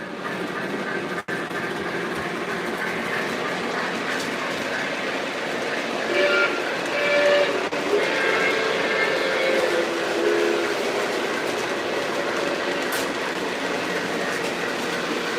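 MTH model train running over track switches, a soft continuous rolling rumble with light clickety-clack as the wheels cross the points, fairly faint and steady with a couple of sharp clicks.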